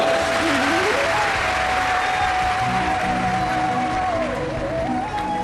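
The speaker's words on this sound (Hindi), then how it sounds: "एक बार जोरदार ताली बजाओ।" A large crowd at a Shiv Mahapuran religious gathering claps loudly and continuously for several seconds, while a sustained tone, likely a musical instrument, holds beneath the dense applause.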